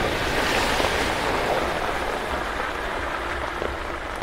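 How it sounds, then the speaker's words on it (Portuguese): Steady heavy rain pours during a storm in Paramirim, Bahia, a dense, even wash of noise that holds at a constant loud level for the whole stretch, with no voices over it. "Vê a chuva aí, ó."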